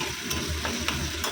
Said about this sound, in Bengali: পেঁয়াজ লঙ্কাটা ভাজা করে নিচ্ছি